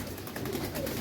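A pigeon coos softly, a low murmuring call amid background noise, during handling for external deworming before a bath in a pigeon loft.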